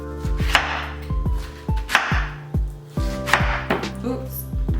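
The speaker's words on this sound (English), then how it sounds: "while I finish cutting the rest of my pineapple." A knife chops repeatedly through a pineapple onto a cutting board, about eight solid thuds at an uneven pace, close and clear.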